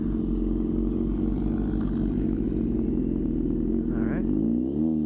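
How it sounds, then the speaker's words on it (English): A 2006 Yamaha FZ6 motorcycle exhaust drones steadily while riding, a low, throbbing engine note heard close up, with a brief voice near the end. "but hearing the exhaust."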